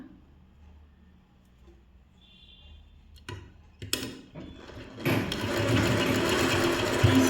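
Sewing machine stitching a blouse, starting with quiet handling and a few clicks, then the motor whirring up into a loud, steady run of rapid stitching close by, with no talking.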